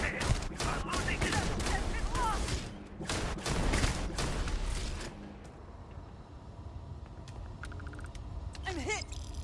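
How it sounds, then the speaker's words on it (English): Rapid bursts of sci-fi gunfire from weapons in the video game Starfield, loud and dense for the first five seconds, then sparser shots and electronic effects, with a voice talking over it. "God, those guns hurt."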